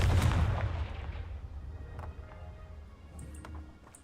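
In the video game Hogwarts Legacy, a Confringo fire spell blasts with a loud, booming impact that rolls off into a fading rumble, with faint magical chimes afterward.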